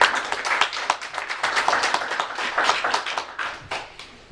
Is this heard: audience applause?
yes